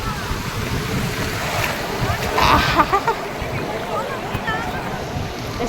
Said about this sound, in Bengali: এখানকার জলগুলো মানে ঢেউগুলো এত গড়ানো অথচ ভালো পরিমাণে ঢেউ আসে